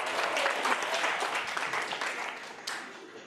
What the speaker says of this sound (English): Can we give them a big round of applause and a wave?